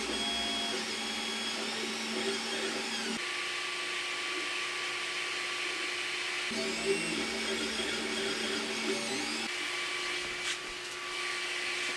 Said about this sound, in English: we can still hear the extruder fan as well as the power supply fan